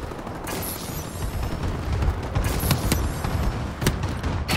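Friendly bombing run in a multiplayer shooter video game: a steady rumble of distant explosions with sharp blasts breaking through near the middle and end, over continuous battlefield noise.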